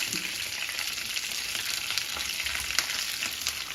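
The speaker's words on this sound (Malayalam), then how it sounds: "ഇനി ഇതിലേക്ക് കറിവേപ്പിലയും വറ്റൽമുളകും ഇട്ട് കൊടുക്കാം" Curry leaves and two dried red chillies crackling in hot oil for a Kerala tapioca dish, a dense, bright, even sizzle with scattered sharp pops, steady and close throughout, no one speaking.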